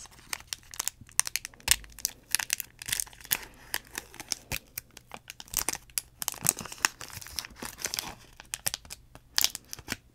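Foil wrapper of a Magic the Gathering Mystery Booster pack being torn open and crinkled, with close, irregular bursts of crackling and ripping. The sound runs steadily throughout, with no talking.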